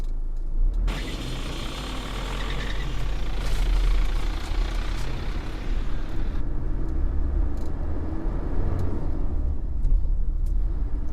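A 2005 Isuzu D-MAX basic pickup with a 3000 cc common-rail intercooled turbo diesel, heard from inside while driving: a loud, steady engine rumble and road noise that holds throughout, with no talking.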